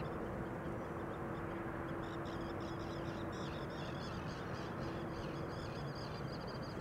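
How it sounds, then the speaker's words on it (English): Several birds chattering and calling in a busy cluster over loud, constant broadband noise, the calls bunched together in the middle. "it's these birds that I'm hearing"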